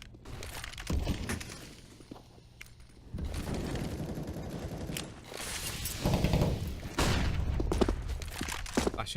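Rapid gunfire and bursts sound through a Counter-Strike: Global Offensive match, sustained and dense, with sharp cracks and louder stretches over a steady game backdrop.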